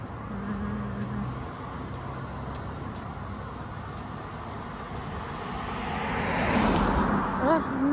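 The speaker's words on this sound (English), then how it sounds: "Morning traffic." Morning road traffic rumbles steadily along a running route, with a vehicle swelling closer and louder toward the end and a brief voice near the close.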